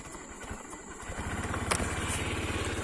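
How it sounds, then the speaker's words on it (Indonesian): Motorcycle engine running on Federal Ultratech Matic 10W-30 oil, a steady close putter with regular low pulses that firm up after about a second, moderately loud and alone with no talk. "Kita dengarkan suara dari mesinnya"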